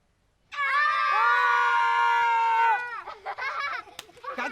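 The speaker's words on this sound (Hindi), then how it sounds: "यहाँ सब बच्चे सोए हुए जज को मस्ती मजाक में उठाने के लिए चिल्लाते हैं" Children in a courtroom scene from the film Court shout together to rouse a sleeping judge, a sustained loud chorus of yelling voices lasting about two seconds, followed by scattered shorter cries and scuffling.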